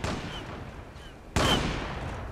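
Gunshots from the online shooter game Zula crack out at moderate distance, a couple of faint reports followed by one louder, sharper shot with a decaying tail.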